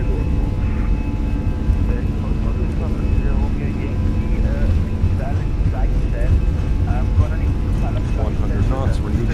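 Jet engines of a Fenix airliner in Microsoft Flight Simulator roar steadily at takeoff power, a loud, dense, unbroken rumble with a faint whine above it, while a voice talks over it throughout.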